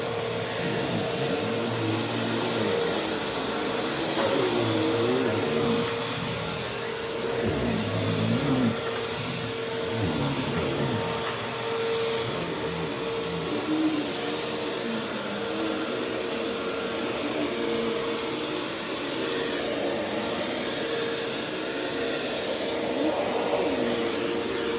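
A household vacuum cleaner runs steadily indoors, a continuous broadband whine and roar holding at even loudness throughout, with no one talking.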